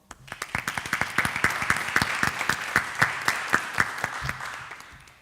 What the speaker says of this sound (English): Please give a round of applause for all those who worked tirelessly to make this event possible.